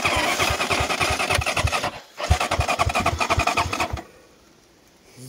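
An enduro motorcycle stuck in a swamp is revved hard in rapid pulsing bursts, pauses briefly, revs again, then drops to near silence as the engine dies; close and loud.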